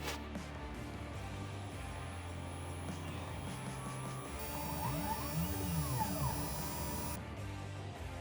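A CNC mill drilling alignment pilot holes in a circuit board, giving a steady mechanical hum and whine with shifting tones as the spindle and axes move, continuous and moderately loud.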